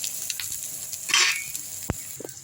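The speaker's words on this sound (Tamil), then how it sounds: "வெங்காயம் வதங்கிடுச்சா பார்ப்போமா" Onions sauté in a clay pot for dal, a soft sizzle with faint stirring scrapes and one sharp tap near the end, fairly quiet and close.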